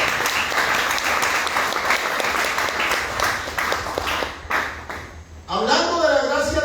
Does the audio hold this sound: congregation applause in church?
yes